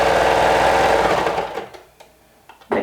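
A sewing machine stitches fabric while the front and waistband of a garment are sewn. It runs in a loud, steady, close whir for about a second and a half, then stops, followed by a few soft handling clicks and a brief rustle.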